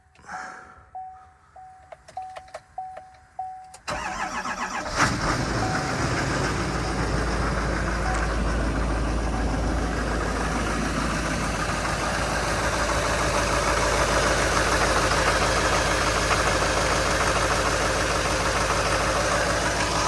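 A 2020 Chevy 6500 truck engine cranks over briefly and catches around four seconds in, then settles into a steady, loud, low diesel-style idle that runs on alone, recorded on a cold morning around 38 degrees.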